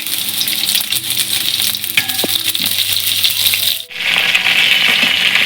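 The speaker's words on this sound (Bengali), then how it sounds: "তেলের মধ্যে আমি পটলগুলো একটা একটা করে ছেড়ে দিচ্ছি সব পটল" Pointed gourds slide into hot oil for a Bengali vegetarian curry, loud dense sizzling with small clinks and rattles as each one lands, then a brief dip before the frying roars on.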